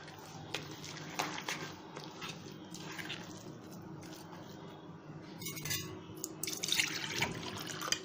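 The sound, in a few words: tap water poured for besan and rava chilla batter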